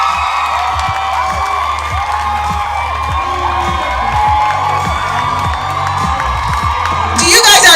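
A large graduation crowd at a university class event cheers, whoops and screams continuously for an award winner, a dense sustained roar with a louder burst at the end.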